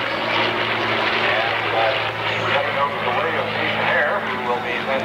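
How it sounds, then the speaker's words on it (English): Propeller engines of a Lancaster bomber drone steadily and loudly through the whole stretch, a broad continuous roar with a low hum underneath and no break. "the launching of the Lancaster today"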